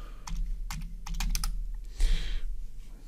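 Quick bursts of keystrokes on a computer keyboard, close and clear, with brief pauses between clusters of taps, no talk.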